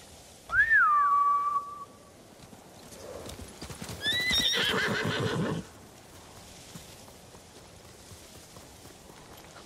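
Horses in the video game Ghost of Tsushima: a loud whinny opens, followed by a burst of nearby galloping hoofbeats and a second higher neigh, then fading quiet ambience.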